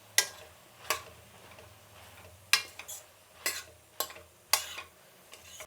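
A spoon stirs curry in a pot with curry leaves and coriander, making about eight sharp scraping knocks in an uneven rhythm. The strokes are close and fairly loud, with a low hum under them and no talk.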